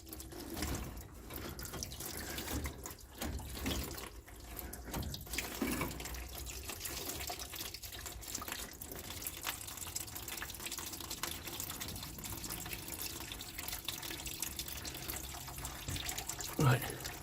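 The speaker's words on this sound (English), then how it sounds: "let's let that drain" Coolant drains steadily from the radiator of a 1968 Dodge Polara, a continuous trickling pour that runs the whole time with a few clanks and shuffling work noises over it.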